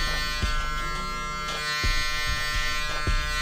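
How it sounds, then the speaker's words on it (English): An electric hair clipper with its lever closed is held at an angle while cutting a high taper beside braids. It gives a steady, close buzz with a few soft low thumps as it moves against the head. "And the more you angle your clipper, the higher you can go with the lever closed."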